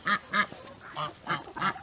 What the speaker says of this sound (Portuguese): Os gansos a gente solta, os gansos e os marrequinhos.